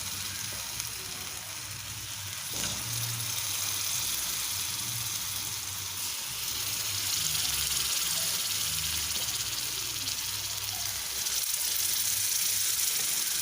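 Semolina appe batter sizzling in a hot iron appe pan, a loud, steady frying hiss that carries on throughout with a few faint clinks and a brief murmur of voice.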